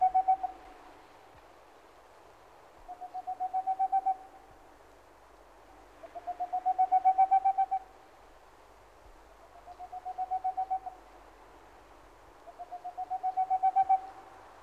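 Tengmalm's owl in European pine forest, giving regular bursts of rapid, rising hooting trills roughly every three seconds, clear and moderately near against a quiet background.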